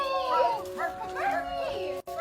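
An excited dog whines and yips in high, wavering cries as its owner arrives home, with voices and a muffled background underneath.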